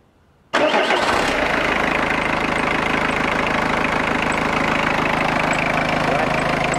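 A car engine starts abruptly after a brief silence, then settles into a steady, close idle with a low rumble and faint ticking.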